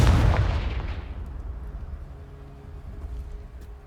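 A Confringo blast spell in the Hogwarts Legacy video game detonates against a pile of debris, a loud booming explosion at the start that rumbles and crackles as it decays over several seconds.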